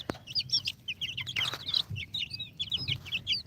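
Baby chicks peep in rapid, high, repeated chirps, many overlapping calls close by, with a couple of louder clucks or thumps mixed in and no talking.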